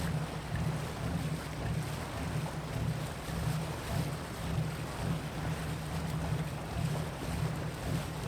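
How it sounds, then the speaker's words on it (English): Low engine hum of a riverboat drones steadily beneath a soft wash of flowing water and breezy wind, a calm, even texture with no voices. "Lulled by the sound of the water and the low hum of the ship,"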